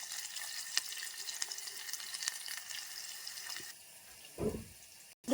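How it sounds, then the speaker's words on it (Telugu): Chopped onions fry in a pan of hot oil with cumin seeds and urad dal, giving a steady close sizzle throughout, then a brief louder stir near the end and a sharp utensil clatter at the close. "ఫ్రై అయిన తర్వాత ఆనియన్స్ ఫ్రై అవ్వాలి"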